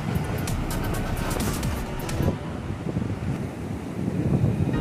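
Sea waves rolling onto Coqueirinho beach on the south coast of Paraíba, Brazil, as a steady broadband wash with heavy wind buffeting the microphone throughout.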